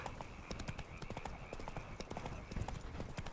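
Roach, Geralt's horse in The Witcher 3: Blood and Wine, trots with a steady, brisk clip-clop of hooves, close and continuous throughout.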